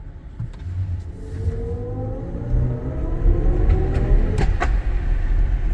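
A BMW iX electric car accelerates in sport mode with a rising electric whine climbing steadily in pitch over low road rumble, growing louder as it speeds up.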